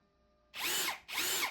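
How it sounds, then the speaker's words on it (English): A cordless drill on its lowest speed bites into a plastic fork guard on a 2024 Yamaha YZ250F with two short, close whirring bursts separated by a brief gap. "remembering to put the drill in the lowest speed setting"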